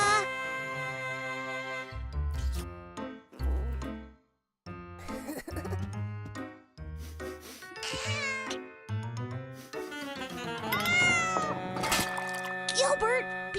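A cartoon house cat meows repeatedly in a lively, tonal run of calls, close and loud, mixed with other cartoon voices talking and a light musical backing.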